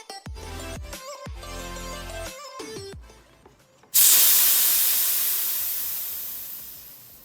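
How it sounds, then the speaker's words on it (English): A pump sprayer lets out a sudden, loud, continuous hiss of fine spray over Drosophyllum lusitanica seedlings, fading slowly as the pressure drops. Tonal music plays faintly before it. "it obviously produces a nice spray as well, which you'll see when I start spraying these guys"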